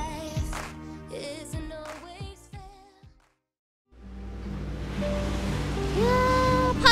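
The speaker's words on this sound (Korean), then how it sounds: "파도 소리 좋고" Ocean waves on a summer seaside, entering after a stretch of music and a brief silence as a steady, fairly loud wash of surf that swells slightly toward the end, with no speech.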